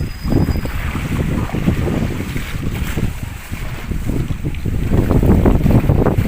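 Ride in a small boat on open water, with steady loud wind buffeting and rushing water and waves slapping the hull continuously throughout, close and unbroken, no voices.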